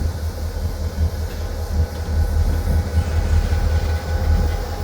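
Railroad cars being coupled into a train in the Wyoming badlands, a steady rumbling and rolling of rail cars with a low drone, continuous and moderately loud.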